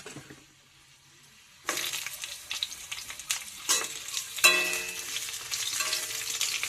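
Pointed gourd stirred and frying with browned potatoes in hot oil, a quiet moment then a sudden loud sizzle as the gourd goes in, with scraping stir strokes and crackling spatters close by.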